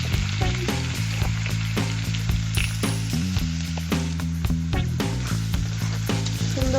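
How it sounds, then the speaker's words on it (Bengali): Potato cubes sizzle steadily in hot oil in a pan, a loud, continuous frying crackle with scattered sharper pops and occasional stirring clinks, no voices. "সুন্দর করে আলু গুলো তেলের মধ্যে আমি সিদ্ধ করে নেব।"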